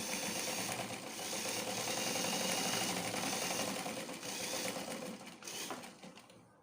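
A sewing machine runs a loose stitch along the pocket of a palazzo trouser, a continuous close whirring drone with a brief dip midway, slowing to a stop at the end.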